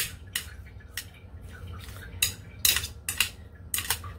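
Pork ribs are tossed with seasoning in a dish, giving a series of sharp clinks and scrapes of a utensil against the dish, irregular and close, with quiet gaps between strikes.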